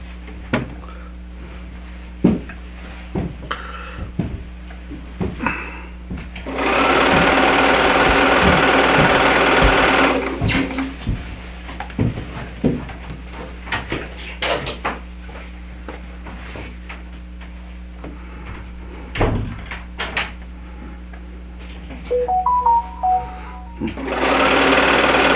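A sewing machine piecing quilt fabric runs in one sustained, loud burst of rapid stitching, then again briefly near the end, with scattered handling clicks and thumps in between.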